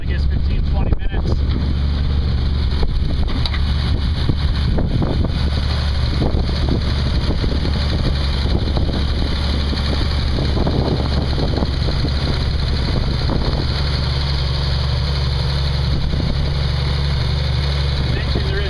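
A 1968 Triumph Spitfire engine idles steadily with the hood open after running for about fifteen minutes, giving a loud continuous low rumble with some wind buffeting the microphone and occasional talk over it.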